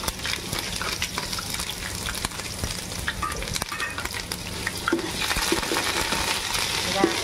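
Ginger and garlic paste fries in a pan for veg Chinese rice, a continuous crackling sizzle with occasional spoon clinks and stirring, growing slightly louder toward the end.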